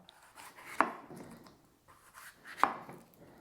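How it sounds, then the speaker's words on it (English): A knife chops capsicums on a board in two sharp, separate cuts with softer scraping between them, close up and fairly quiet, with no talk. "Now we're cutting the capsicums."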